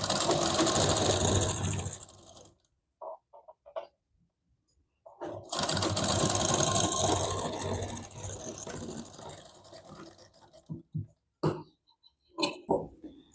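A sewing machine stitches a blouse strip half an inch from the edge. Two loud, close runs of rapid stitching are split by a quiet gap, followed by scattered clicks and handling noises.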